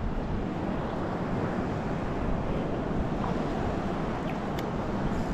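Choppy water sloshes around a kayak at sea near a tower while bass fishing, a steady, dense wash of wave noise mixed with wind buffeting the microphone, with no distinct breaks.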